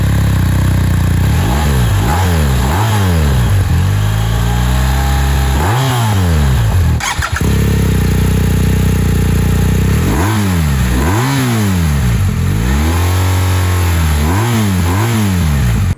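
A 2023 BMW R 1250 R boxer twin motorcycle fitted with an Akrapovic exhaust revs loudly and close by in repeated rising and falling bursts, with a steady idle between them and no talk.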